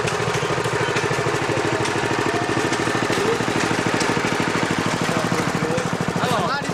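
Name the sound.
9 horsepower engine running on a ridden machine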